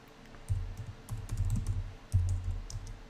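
Fingers type a sudo bash command on a Lenovo laptop keyboard with an AMD 5700U, producing soft, quick key clicks in short bursts up close, with no talking.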